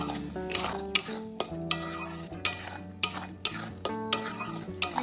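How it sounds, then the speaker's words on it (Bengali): Banana peel paste is stirred in hot oil, a utensil scraping and knocking against the pan in a regular rhythm of sharp metallic taps over a soft sizzle, close and without voices. "এবার তেলের সাথে এটা ভালোভাবে নাড়াচাড়া করে নেব।"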